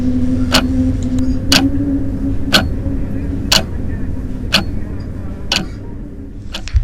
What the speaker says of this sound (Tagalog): wala kang ibang maririnig kung hindi ang ugong ng hangin at ang paggalaw ng mga kamay ng orasan